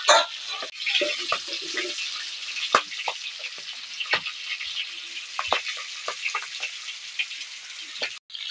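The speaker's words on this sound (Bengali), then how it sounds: "মাছগুলো ফাটতেছে দেখো বন্ধুরা।" Magur catfish crackling as it fries in oil: a dense sizzle broken by frequent sharp pops and spits, near and fairly loud, with no one speaking.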